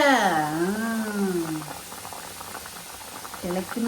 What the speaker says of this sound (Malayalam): തിളയ്ക്കുന്നു ആയിട്ടില്ല